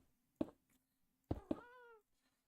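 A person imitates cat meowing while playing Minecraft: two short voiced bursts, then a rising, drawn-out meow with clear wavering harmonics, close and fairly loud over a faint steady hum.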